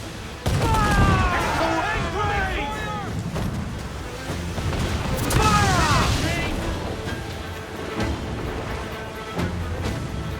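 Warship cannon fire in Assassin's Creed 4 booms amid continuous battle noise, with rumbling blasts, whistling projectiles and crashing impacts, while crew voices shout over the din.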